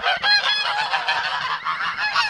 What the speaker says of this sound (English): It's been quite enjoyable seeing these geese,